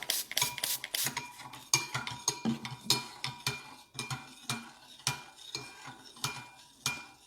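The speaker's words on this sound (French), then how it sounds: "on continue de mélanger et on rajoute de l'hydrolat" A homemade cream mixture with rose hydrosol is stirred in a bowl, with rapid, rhythmic clinks and scrapes of a utensil against the container, close and continuous, with no talking.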